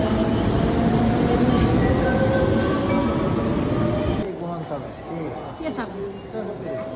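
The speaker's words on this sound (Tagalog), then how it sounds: "Kaya sinakyan namin na tren." Train running on the rails between Shin-Osaka and Kawanishi-Noseguchi, heard from inside as a loud rumbling clatter that drops to a quieter hum partway through while people talk.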